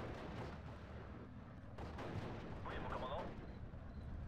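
Long-range artillery bombardment in Steel Division Normandy 44: quiet, distant booms and rumbling impacts under a continuous low battlefield din, with a voice talking over it.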